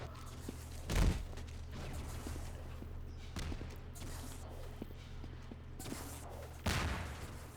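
Shotgun blasts in the video game Half-Quake during a 2v2 tournament match, a few sharp shots spaced apart amid faint footsteps and game ambience, with no talk.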